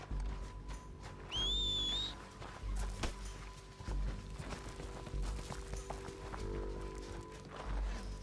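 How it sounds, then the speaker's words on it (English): Horses in Red Dead Redemption 2 thud along in a steady clip-clop rhythm at moderate distance, hooves pounding under a faint whistle-like cry and low background sound, with no talk over them. "horses."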